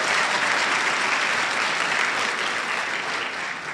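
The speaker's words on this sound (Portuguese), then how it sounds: "aplaude a Jesus, pode aplaudir" A church congregation claps together in sustained, steady applause, loud and close, filling the space without pause.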